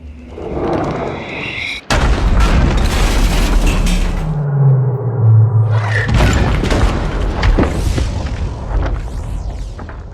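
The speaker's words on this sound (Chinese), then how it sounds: "就这几发迫击炮的轰炸" Mortar shells exploding in a war film battle scene, with heavy booming blasts and rumbling debris filling most of the stretch, loud and close, broken by a brief drop before the explosions continue.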